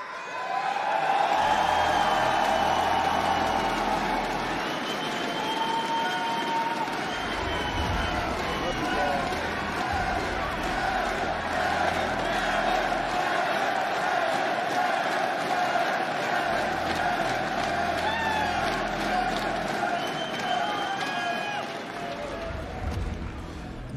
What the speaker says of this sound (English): This crowd is absolutely electric right now.